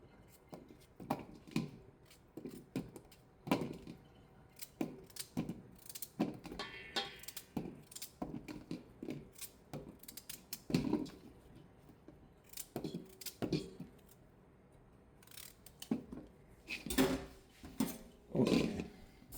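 Peeled vegetables for Jamaican red peas soup are cut in a pot or pan, making a long run of irregular close snips, crunches and knocks of varying loudness with brief pauses.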